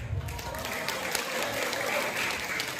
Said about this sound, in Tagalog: Sabay po nating palakpakan at hiyawan si Binibining Christine Reyes.